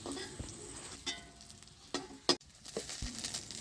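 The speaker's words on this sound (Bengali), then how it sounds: "আলু কটা ভাজা হয়ে গেছে, এবার আমি তুলে নেব।" Potatoes fry in oil in a pan, giving a quiet, low sizzle punctuated by scattered clicks and a few sharp utensil scrapes.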